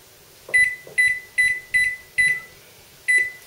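An oven timer set while almond lace cookies bake at 350 degrees beeps six times in a steady, evenly spaced pattern with a short gap before the last. The tones are clear and fairly close, with no talk.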